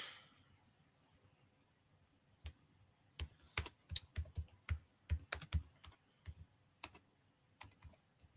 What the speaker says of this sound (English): Y'all know when I gets to typing.